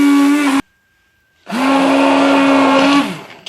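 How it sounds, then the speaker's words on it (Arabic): A kitchen blender whirring as it purees avocado with milk, a loud steady motor drone that stops briefly, then starts up again and runs for a couple of seconds before spinning down. "وغنطحن هاد لافوكا مع الحليب"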